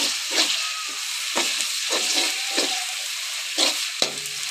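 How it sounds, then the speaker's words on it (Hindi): Close, steady sizzling of ginger garlic paste frying in a hot pan, with occasional stirring scrapes and bursts of spitting. "अदरक लहसुन का पेस्ट है मेरे पास, इसे शामिल कर लेंगे। इसे भी थोड़ा सा भून लेंगे।"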